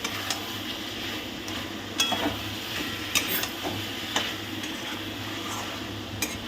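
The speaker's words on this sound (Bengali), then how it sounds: "এবার খুব ভালো করে কষিয়ে নিতে হবে, আর গ্যাসের ফ্লেমটা কিন্তু মিডিয়ামে রাখবেন" Spiced meat for kosha mangsho stirred and fried in a pan over a medium gas flame, a steady low sizzle with faint scraping clicks of the spoon against the pan every second or so, close and fairly quiet, with no talking.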